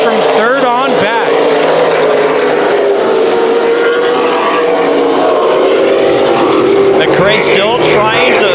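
Super late model race cars racing three wide at Irwindale Speedway, with a loud, continuous roar of V8 engines and rising and falling pitches as cars pass, under excited commentary.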